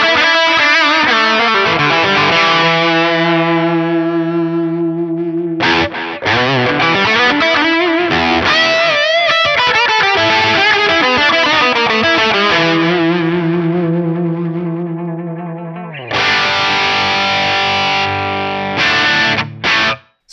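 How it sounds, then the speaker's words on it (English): Electric guitar played through an Atomic Amplifire on its Kornfield amp model with cab and a touch of room reverb, giving a loud, heavily distorted tone of sustained chords and chugging riffs with brief pauses, alone without talk. "this is just basically the amp and cab, a little bit of room reverb, a little bit of high cut, a little bit of low cut"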